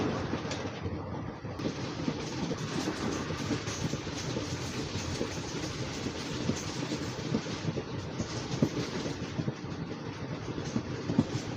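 The Machilipatnam Express runs along its tracks with a continuous rumbling roar and rhythmic wheel clatter, steady and fairly close throughout, with no voices.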